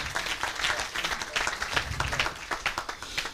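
Applause at a Moroccan pediatrics society ceremony: many hands clap close together in a steady, fairly loud patter that pulses slightly and carries on for several seconds.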